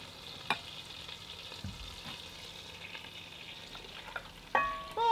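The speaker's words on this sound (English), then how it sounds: "so we're gonna get this chicken sauteed" Chicken sautés in a pot for soup with a soft, steady sizzle, quiet and fairly close, broken by a few light utensil clicks and one sharper clatter near the end.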